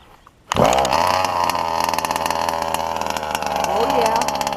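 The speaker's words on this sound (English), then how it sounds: "See if we can start it without the choke." A nitro engine, running VP C9 fuel, is started without the choke; after a brief quiet it catches and roars to life, then runs loud and steady with a buzzing, revving drone.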